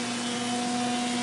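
A metalworking machine cutting steel for custom driveway gates, taking a 3 mm cut per pass, gives off a steady, loud, strained hum with a strong sustained tone and no pauses.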